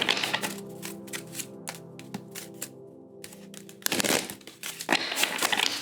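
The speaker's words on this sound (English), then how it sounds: "Dropped a huge stack, but that is way too many cards." A large stack of tarot cards dropping and scattering, a quick flurry of close crisp flaps and slaps followed by a second burst of rustling cards, no voices.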